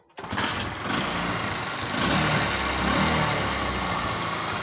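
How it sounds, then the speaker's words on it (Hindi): A Honda CD70 motorcycle converted to run on LPG, with petrol shut off, starts on a single kick and settles into a steady, close, buzzing idle. "एक ही किक पे ये स्टार्ट हो रही है।"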